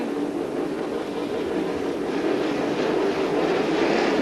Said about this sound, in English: Short wheelbase car waiting for the flag, revs rising.